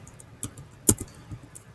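Keys on a computer keyboard are tapped sparsely while a name is typed into a Google Doc, giving a handful of light clicks with one sharper tap and quiet gaps between them.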